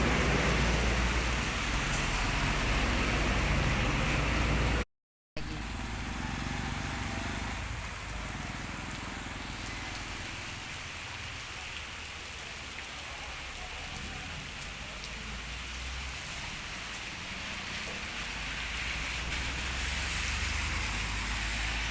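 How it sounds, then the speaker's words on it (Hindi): Rain falling steadily on surfaces in a village, making a dense, continuous patter. It sounds close at first, then a brief dropout, then it continues softer with a low background rumble and swells slightly toward the end. "और आज बारिश आ गई है।"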